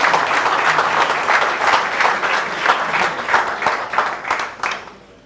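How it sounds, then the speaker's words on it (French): Audience clapping at a French-language business training seminar, steady applause from a room of people lasting several seconds, fairly close and dense, tapering slightly toward the end with no talk over it. "Est-ce qu'on peut applaudir quand même pour ce type de..."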